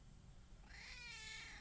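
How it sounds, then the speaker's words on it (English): A pet cat gives a single faint, drawn-out meow that rises in pitch, heard alone in a quiet room. "You're a good kitty."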